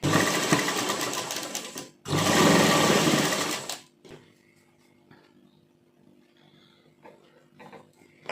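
An electric sewing machine stitching lace onto a kurti collar, running in two steady whirring bursts for about four seconds with a short pause between, then quiet handling of fabric.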